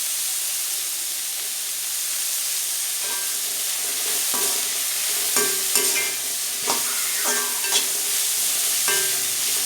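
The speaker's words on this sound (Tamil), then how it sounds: "இப்போ காய்கறி நல்லா வதங்கிருச்சு" Vegetables for egg pasta sauté in a hot pan, a continuous close sizzle broken by repeated scraping stirs of a spatula, no voices.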